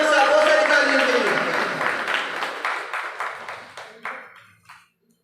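Crowd applause at an award ceremony for a social worker receiving his award, a dense wash of clapping that thins into scattered individual claps and fades out near the end.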